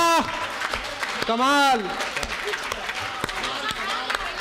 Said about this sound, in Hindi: सर देखिए कमिश्नर साहब ने भी ताली बजाई।